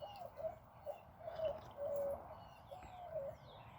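Mourning doves coo outdoors in a soft, repeated series of low hooting calls, moderately close against a faint background hum, with no one talking.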